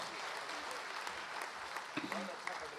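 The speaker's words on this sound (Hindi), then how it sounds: "तालियां बजा दीजिए।" A live audience at a Hindi poetry gathering in Jaipur claps briefly, a short, moderately faint burst of applause with some background voices.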